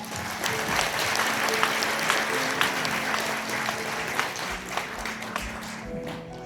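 Wedding guests applaud during a ring exchange at a wedding ceremony, a steady dense round of clapping from a large crowd held for several seconds, with a faint low hum underneath and no clear talk.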